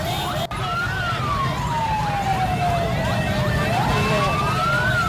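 Fire engine sirens wail at a burning market in East Jakarta, loud and close, one long sweeping tone rising and falling while other sirens overlap beneath amid street noise.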